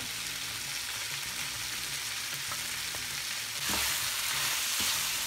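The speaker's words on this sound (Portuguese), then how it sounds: "Vou colocar só a cebola agora." Strips of large onion hit a hot pan that was used to cook beef liver, giving a steady dense sizzle that surges louder partway through as they settle in, with a few faint stirring knocks and no voices.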